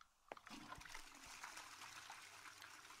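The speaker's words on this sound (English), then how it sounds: "I bet you that's him taking a splash right now." Character urinating in Araya, a thin trickle of liquid splashing continuously after a brief knock, quiet and somewhat distant.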